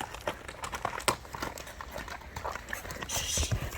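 A white horse's hooves clip-clopping in an irregular run of nearby knocks over outdoor background noise.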